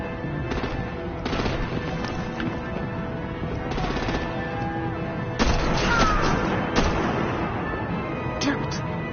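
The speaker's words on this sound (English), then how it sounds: "Break out the artillery and disable their vehicles!" Rapid bursts of artillery and automatic gunfire in a Batman Telltale Series game battle, loud repeated volleys over continuous background clatter, with a shouted voice mixed in among the shots.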